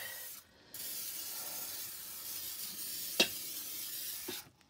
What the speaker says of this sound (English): We're going to spray it. She said to spray it real good